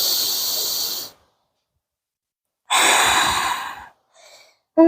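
Deep breaths during a yoga pose: a long, audible breath, then a pause of silence, then another full breath followed by a softer, shorter one, all close and clear.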